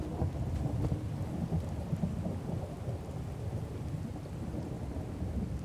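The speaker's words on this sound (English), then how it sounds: "Looks like our friend the Rain is back." Rain and rolling thunder in the video game Fallout 4 make a dense, constant roar of downpour with deep low rumbles running underneath, loud and steady throughout with no voices.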